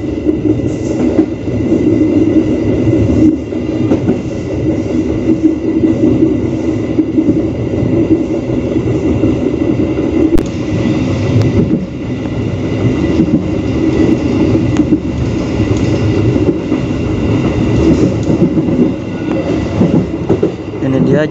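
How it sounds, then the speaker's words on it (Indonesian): A train crossing the Serayu River railway bridge in Indonesia gives a loud, steady rumble with rhythmic clatter throughout, heard up close from on board. "sebentar lagi akan melintas jembatan kereta api Sungai Serayu."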